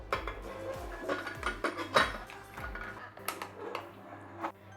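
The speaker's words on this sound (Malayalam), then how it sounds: "ഇനി ഈ കുക്കർ നമുക്ക് അടയ്ക്കാം." A pressure cooker lid is fitted and shut, a few soft metallic clinks and clatters close by, then a firmer clank as it locks, fairly quiet with no voices.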